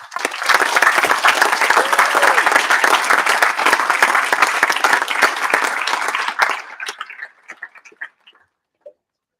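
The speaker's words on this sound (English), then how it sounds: "Just want to give a quick shout out and round of applause for our grade 8s, please." A closing-day audience gives grade 8 graduates a loud, dense round of applause that holds steady for about six seconds and then thins to a few last scattered claps before silence.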